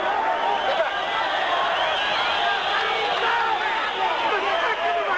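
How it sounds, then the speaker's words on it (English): Crowd noise at a 1994 middleweight boxing match, a loud, continuous roar of voices with whistles and shouts rising across the arena as the fans demand action mid-round. "You hear the crowd halfway through this round wanting something to happen with the whistles."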